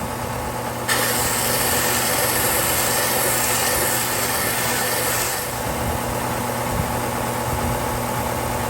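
A Condor mid-grade 8,000 grit belt polishing an agate cabochon, a steady close motor drone with a continuous abrasive hiss, loud and even throughout with no speech.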